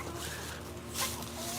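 Backyard chickens cluck softly while pecking at food scraps in a garden, faint and close, under a steady hum of outdoor background noise.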